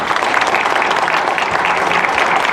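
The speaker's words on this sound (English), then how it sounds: "how about a round of applause for these 5 challenges?" A crowd applauds the five candidates at a League of Women Voters forum on a recall election, sustained broadband clapping from many hands, loud and even throughout.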